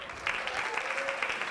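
Crowd clapping for panelists at an athlete leadership discussion, a brief continuous burst of applause at moderate loudness with a faint voice underneath.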